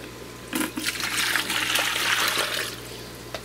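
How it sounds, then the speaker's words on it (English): Water being scooped out of a Lake Tanganyika cichlid aquarium, a soft gurgling, trickling slosh that swells and fades over a few seconds, close and moderately loud with no talk. "Scoop out a little bit of water here."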